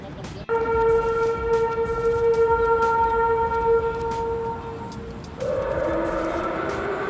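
A steady, sustained alarm tone sounds outdoors in a plaza in Saltillo, Mexico, holding for several seconds before shifting pitch, with street noise underneath.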